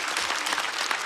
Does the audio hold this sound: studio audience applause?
yes